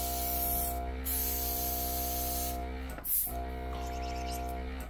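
An airbrush is flushed out after nail art, giving a steady, close spray hiss that breaks off briefly partway through and then resumes.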